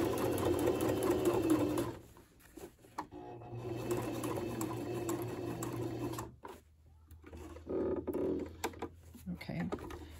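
A sewing machine stitches the sleeve of a dress shirt in rapid mechanical runs, pausing near two and six seconds before starting again, with a voice talking over parts of it.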